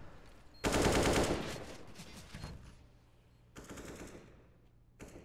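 Automatic rifle gunfire rattles in a Counter-Strike match on the map Mirage, a long sustained spray followed by quieter scattered shots and another short burst near the end.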